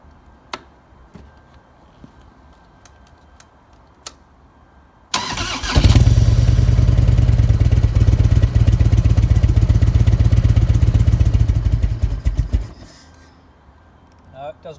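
A cold Harley-Davidson Heritage Softail Springer motorcycle is started with the choke on: a few clicks, then the engine fires and runs at a loud, steady rumble for about seven seconds before it cuts out and the room goes quiet.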